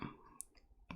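A computer mouse clicks while shift is held, giving a few faint, sharp clicks spaced out over a second in an otherwise quiet room.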